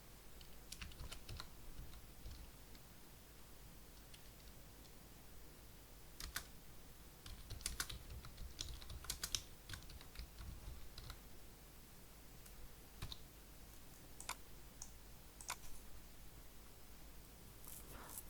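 Steady typing on a computer keyboard, with quiet, rapid key clicks in uneven bursts and short pauses, close and faint against a low background hiss.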